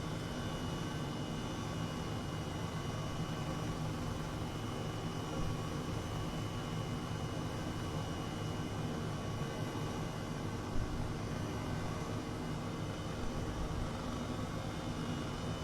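H135 helicopter in Microsoft Flight Simulator flying near the Beatrice wind farm off Wick, with a steady, even turbine and rotor drone filling the cabin throughout, no voices.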